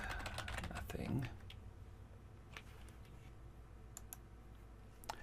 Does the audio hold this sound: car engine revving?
no